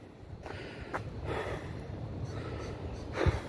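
A 61-year-old man puffs and pants after a 25-minute walk on sand at the beach, with several audible heavy breaths and snorts spaced irregularly, close to the microphone, under light wind noise.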